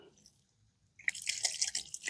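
Water drips and splashes while a coffee press screen is washed outdoors at a camp, a quiet pause giving way to a sudden burst of bright, close trickling and spattering.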